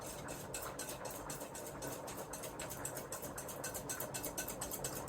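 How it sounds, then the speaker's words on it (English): Potato salad dressing made with mustard is whisked in a bowl, producing a faint, steady, rapid rhythm of strokes that continues evenly throughout with no voices. "Whisk that together."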